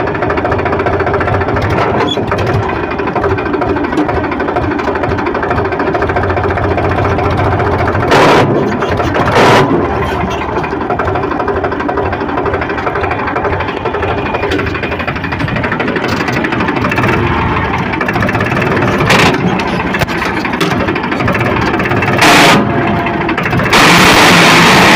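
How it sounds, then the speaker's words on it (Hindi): A Powertrac Euro tractor running in third gear with a faulty gearbox gives a continuous loud mechanical engine and gear drone with a rattling, knocking texture, broken by a few sharp clanks. "ट्रैक्टर को चलाते समय इसके गियर से साउंड आ रहा है"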